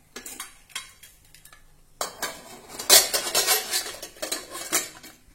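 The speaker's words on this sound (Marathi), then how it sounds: "झाकण ठेवूया." A metal lid set onto a pressure cooker in a home kitchen, with a few sharp clinks followed by a burst of louder, close metallic clanking and scraping, with no voices.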